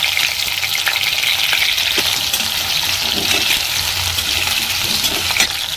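Potatoes and green chillies fry in hot oil with cumin for a vegetarian aloo dum, giving a loud, steady sizzle throughout, with light stirring clinks and scrapes in the pan.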